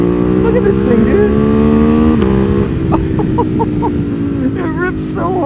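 Ducati Monster 821 Stealth (2020) motorcycle engine pulled at wide open throttle, a loud, continuous rising engine drone with a shift-like dip partway through, wind rush over it and a rider's voice talking along.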